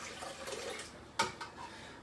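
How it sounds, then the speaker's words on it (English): Lukewarm water pours into a pizza dough mixer bowl, a soft steady splashing trickle with a brief louder splash near the end, close and quiet. "Into your mixer, the first thing that you're going to want to do is add your lukewarm water."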